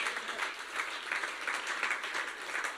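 A church congregation bursts into sustained applause, a dense, steady wash of many hands clapping in a large room, with no voice standing out above it.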